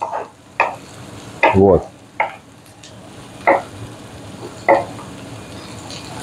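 Potatoes and vegetables sizzling in a frying pan with repeated stirring scrapes and clatters at irregular intervals, loud and close, and a brief word spoken once.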